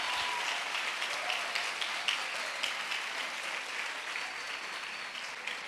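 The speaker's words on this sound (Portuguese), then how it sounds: "Aplauda Jesus!" A church congregation claps in a steady, sustained ovation, a broad, even wash of many hands heard from a moderate distance and keeping a constant level throughout.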